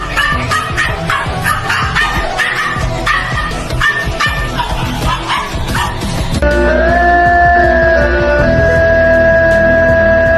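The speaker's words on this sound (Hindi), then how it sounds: "देख रहे हो जोर जोर से कैसे भौंककर इस पहलवान को खुलेआम चुनौती दे रहा है" A small dog barks loudly and repeatedly in quick bursts, then a sustained tonal hum takes over for the last few seconds.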